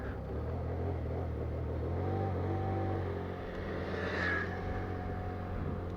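An Rks Bitter 50 motorcycle pulls away into traffic, its engine a steady, close drone that holds throughout with a slight rise as it gets moving, and no one speaks.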